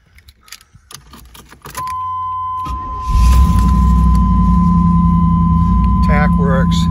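A 1987 IROC 350 car is started up: keys jangle, a steady electronic chime sounds, then the engine cranks and catches into a loud, steady rumbling idle close by, with brief chirping squeaks near the end.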